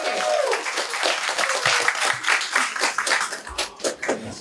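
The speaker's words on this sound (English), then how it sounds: "please everyone give a great round of applause for Chris Ridley" An audience at a marketing talk applauds to welcome a speaker, with brisk dense clapping that tapers off toward the end, a few voices faintly mixed in.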